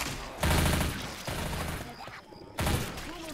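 Rapid gunfire in the Left 4 Dead 2 video game, fought in a dark waterside level against mudmen: loud, close bursts of shots rattling in several separate volleys, heard without talk.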